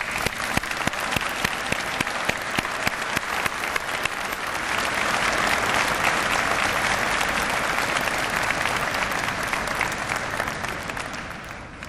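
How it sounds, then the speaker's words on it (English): Sustained applause from the audience at a University of Waterloo convocation ceremony for a graduating class, with dense clapping and a few sharp individual claps standing out early on. "a round of applause."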